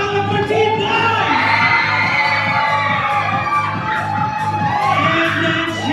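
A crowd at a baby shower gender reveal party shouts, whoops and cheers loudly and continuously over a rhythmic thumping music beat, with overlapping excited voices throughout.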